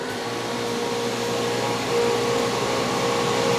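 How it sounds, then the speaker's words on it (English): A vacuum pump holds cut parts down on a CNC cutting table in a kitchen-building shop, producing a steady loud whir and hum that rises slightly partway through. "Once I start the vacuum pump,"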